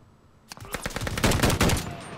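Rapid automatic gunfire from the Call of Duty: Vanguard video game crackles in a dense burst of overlapping shots lasting over a second, loud and close, with no talking over it.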